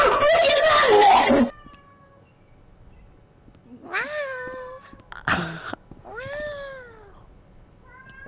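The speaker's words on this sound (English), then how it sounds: "What are they meowing about?" Several cats meow in turn, loud, drawn-out cries following a burst of noisy shouting at the start, with some rising, wailing calls spaced over several seconds.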